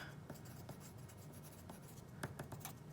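Pen or pencil writing a sentence by hand, faint, with a steady scratching of quick irregular strokes and short taps as each word forms, close and quiet with no voices.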